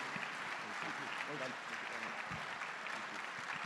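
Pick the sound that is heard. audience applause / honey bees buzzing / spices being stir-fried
audience applause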